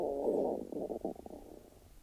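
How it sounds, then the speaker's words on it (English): A stomach rumbles in a gurgling, wavering growl, loud at first and then breaking into softer pulses that fade out, with no talk during it. "Was that your stomach just now?"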